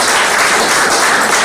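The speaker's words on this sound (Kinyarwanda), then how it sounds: "mwamuhaye amashyi menshi y'ibishaka" Wedding guests applaud in a loud, dense, continuous burst of clapping at close range, with no talking.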